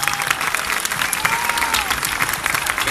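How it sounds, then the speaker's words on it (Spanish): Loud, dense audience applause at an outdoor Christmas lights-switching-on event in Santa Lucía, many hands clapping continuously with crowd noise and a faint tonal whistle drifting through. "pido para ellas un aplauso"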